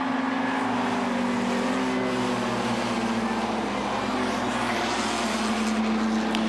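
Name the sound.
modified race cars racing around a speedway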